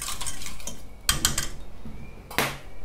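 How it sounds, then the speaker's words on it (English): Argan oil being stirred into a hair serum mixture, a few short clinks and scraping taps of a utensil against a container, close and clear with quiet pauses between. "So I'm just gonna give that a stir."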